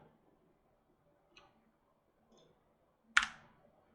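Computer mouse clicks during 3D modeling work: two faint clicks, then one sharp, close click near the end, separated by quiet gaps.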